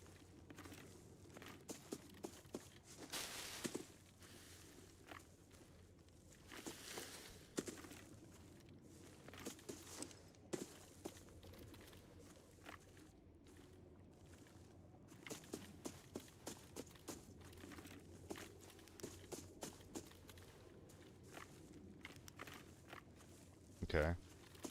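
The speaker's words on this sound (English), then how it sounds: "I thought I heard one pair of footsteps left, one pair right." Footsteps in a video game patter faintly in scattered bursts of quick steps, quiet and distant against a low ambient background with no talking.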